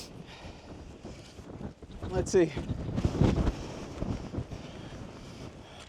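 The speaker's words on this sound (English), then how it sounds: "Man, it is windy up here." Strong wind buffets the microphone on a mountain top in the Silvermines Mountains, Tipperary, Ireland, a broad roaring rush that swells loudest in the middle, with someone talking briefly over it.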